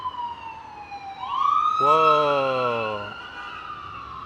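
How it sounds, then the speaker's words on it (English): Emergency vehicle siren wailing in Miami traffic, rising and sweeping with strong harmonics, loud and fairly close for a few seconds amid road noise, with a brief exclamation from a passenger. "I'm hearing sirens."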